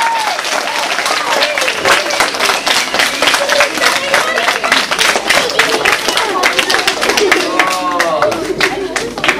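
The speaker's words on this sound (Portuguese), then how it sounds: "vamos já lançar as vossas palmas" An audience claps steadily to welcome the writer and illustrator Rui Sousa at a live event, a dense, continuous applause from a crowd, with scattered voices and cheers mixed in throughout.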